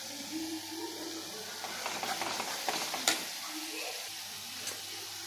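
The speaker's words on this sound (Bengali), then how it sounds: "আমি আগে মশলাটা ভেজে নিলাম" Garam masala and cardamom powder frying in a pan, a continuous close sizzle broken by scraping stirs and a sharp clack near the middle, with a low murmur in the background.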